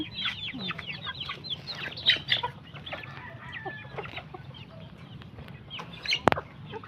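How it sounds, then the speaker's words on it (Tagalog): Pet chickens cluck and chirp repeatedly while being fed, a busy overlapping flock close to the listener, with one sharp louder call near the end and no talk. "Yan guys, ang aming alagang manok."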